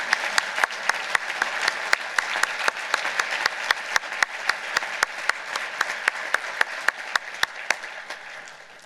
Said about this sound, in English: I'd ask that you join me in one last round of applause for all of our recipients.